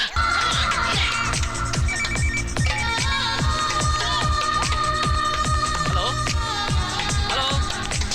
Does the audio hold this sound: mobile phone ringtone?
yes